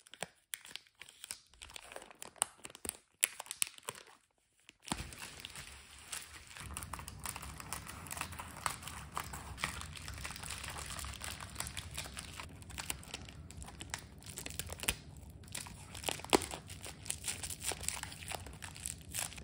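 A crystal sphere being slipped into a Ziploc plastic bag while an order is packed, close crinkling and rustling of thin plastic in irregular bursts, with a brief quiet gap before busier handling continues.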